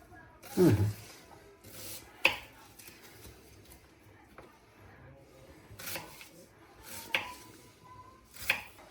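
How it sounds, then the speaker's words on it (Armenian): A knife chops onion for panrkhash on a cutting board, giving a few sharp, spaced cuts and some rubbing scrapes between them. The strokes are fairly close and moderately loud against a quiet kitchen background. "Ահա, այստեղ արդեն կտրատեցինք սոխը"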